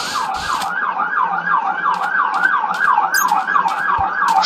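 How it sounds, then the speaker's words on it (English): A wailing siren in the video game Minecraft rises and falls in a steady, rapid, loud cycle that runs through the whole stretch, with faint clicks and game sounds in the background. "Siren, why you interrupt me?"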